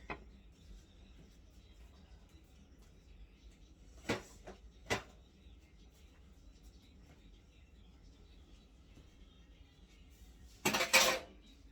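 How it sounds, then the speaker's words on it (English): A lid is set on a cooking pot of Southern-style pink-eye beans, making a few sharp metallic clacks at intervals and a louder double clatter near the end against a quiet kitchen background. "And put my lid on there."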